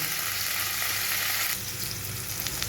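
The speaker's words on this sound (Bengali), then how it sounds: "জাস্ট একটু লাল করে ভেজে তুলে রাখবো" Cauliflower florets frying in hot oil, a steady, dense sizzle that holds close and even throughout, brightening a little partway through, with no voices.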